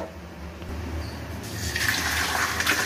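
Water from salted cluster beans boiled in a pressure cooker is poured off in a kitchen, beginning as a low murmur and then swelling into a steady, close-up gushing splash that continues to the end.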